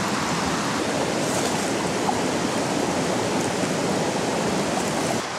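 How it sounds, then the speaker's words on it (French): Cold, drinkable spring water pours out of a hole in a steady, close, full-bodied rush that stays even and unbroken throughout. "on voit l'eau qui ressort un peu"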